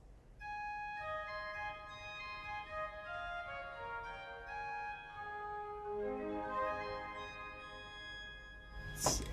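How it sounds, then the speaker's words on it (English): A church pipe organ in St. Wenzel, Naumburg, sounds its narrow 4-foot gamba stop Vagara on the Rückpositiv, playing a slow run of bright, stringy, overtone-rich single notes in steady succession, alone and clear. "there is one 4-foot gamba called Vagara on the Rückpositiv. Sounds like this."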